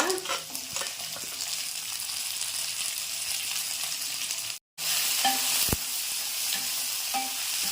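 Tomatoes frying in a pan for tomato chutney, an even, moderate sizzle with scattered stirring clicks, cut off briefly by a moment of silence before the hiss resumes, with no speech.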